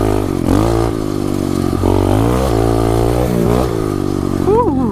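A 2016 SSR 125 pit bike rides and accelerates, its small engine revving up and down loudly and close through repeated throttle bursts, with some clatter alongside.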